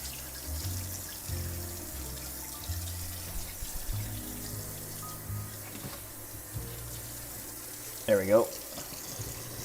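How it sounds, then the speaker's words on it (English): Green onions rinsed under a running kitchen tap, a soft steady stream of water splashing in a sink, faint and close, with a person speaking briefly near the end. "I'm gonna rinse off these green onions"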